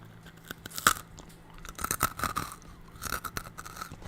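Crunchy peanut-free cookies are bitten and chewed close up, with several sharp, dry crunches spread irregularly across a few seconds and no talking.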